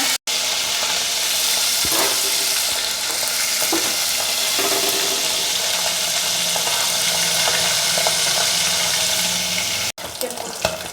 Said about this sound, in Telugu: ఎర్రగా వేయించుకోవాలి వేయించుకుంటే అప్పుడు టేస్ట్ బాగుంటుంది